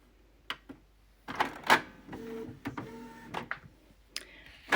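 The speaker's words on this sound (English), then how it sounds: "Then I'm taking a digital paper and put it on my printer to scan" An inkjet printer draws in and scans a sheet of paper, with mechanical clicks, whirring motor runs and short clunks in an uneven sequence, close by with no speech.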